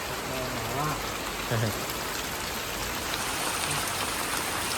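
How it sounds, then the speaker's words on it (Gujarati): Steady, dense unseasonal rain pours down on a village in Botad, Gujarat, a loud continuous hiss of heavy rain, with a few brief faint voice fragments underneath. "નદી એમ નાળા છલકાઈ દે એવો વરસાદ ચાલુ થયો"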